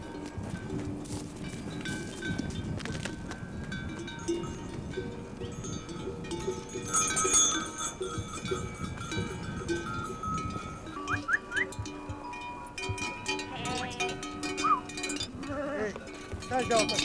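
A flock of sheep penned in the Pindos Mountains of Greece bleats in overlapping calls near and far, with cowbells clanking and people talking now and then.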